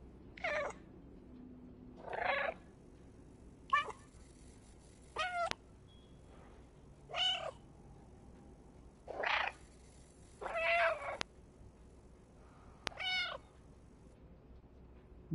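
An orange stray cat meowing repeatedly indoors, eight or so distinct close meows spaced a second or two apart, with quiet pauses between and a faint background hum.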